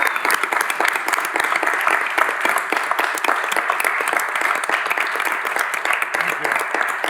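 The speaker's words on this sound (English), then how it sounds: "Can we all get a round of applause for Coach Vitello?" An audience gives Coach Vitello a round of applause at a Knox County, Tennessee gathering: dense, steady clapping fills the whole stretch at an even, sustained level.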